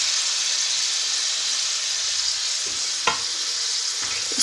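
Mutton korma with potatoes fries steadily in a pan, a soft continuous sizzle that runs throughout, with a couple of faint spoon scrapes near the end and no talking.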